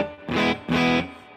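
A PRS NF53 electric guitar played through a Two-Rock Bloomfield Drive amp set fairly clean rings out two strummed chords in quick succession, each sustaining briefly before fading, close and alone.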